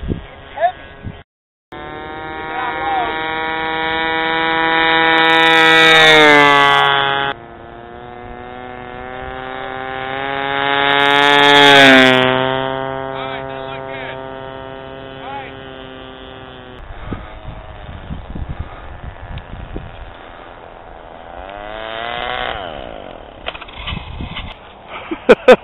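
A 1/8 scale Vultee BT-13 radio-controlled model airplane flies past with its engine buzzing loudly, its pitch rising and falling in repeated passes. Near the end it fades to lower rumbles, with people chatting nearby in between.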